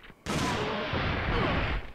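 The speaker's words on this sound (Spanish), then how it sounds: "Y encima ahora ni dos disparos sirven." Loud, rapid gunfire from the survival-horror video game Dino Crisis 2 bursts in suddenly and continues as a dense, sustained volley for well over a second before tailing off.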